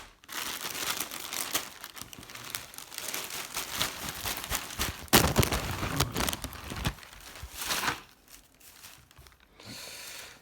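Football jerseys on hangers are pulled out of plastic packaging, giving close, continuous crinkling and rustling with sharper tearing bursts and a brief pause near the end.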